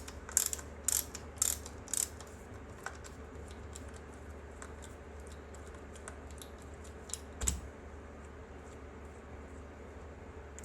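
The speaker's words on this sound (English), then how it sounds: "Now for the screw in the back of the stock, go ahead and remove that." A screw is removed from the back of a Rock Island VR80 12-gauge shotgun stock: faint ratcheting and mechanical clicks, a few sharper taps near the start and one later, over quiet room tone.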